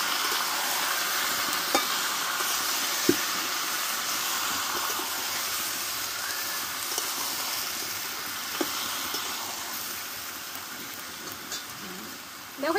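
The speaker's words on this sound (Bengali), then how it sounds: "টমেটোগুলো দিয়ে আমি কিছুক্ষণ টমেটোটা কষে নিব তেলে।" Chopped tomatoes fry in hot oil with a steady, close sizzling hiss, broken by a few soft spoon taps and scrapes while they are stirred, with no one talking.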